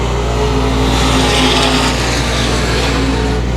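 Race cars roar around a short speedway oval during a tight late-race battle for the lead, engines droning loud and continuous with a steady roar that swells slightly as the cars pass.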